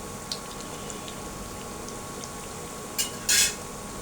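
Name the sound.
potato snacks frying in oil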